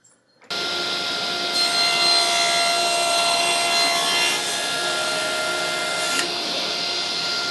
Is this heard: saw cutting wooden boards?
yes